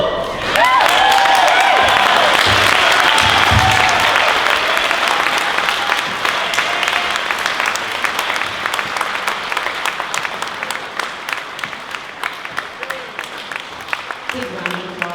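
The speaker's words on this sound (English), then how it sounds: "Big round of applause." Sustained applause from wedding guests following a best man toast, a loud, dense burst of clapping that holds steady for several seconds before gradually thinning out, with scattered cheers and voices mixed in.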